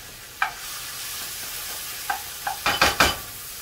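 Spinach sautés in a pan at medium heat with balsamic vinegar nearby, a soft steady sizzle broken by a few sharp clanks and stirring scrapes toward the end.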